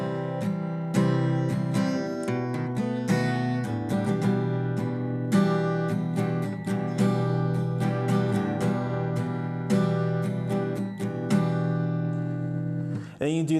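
Acoustic guitar plays a song intro as a looping chord progression, sustained strummed chords ringing with steady rhythmic attacks, close and full, alone for about thirteen seconds before a final strum.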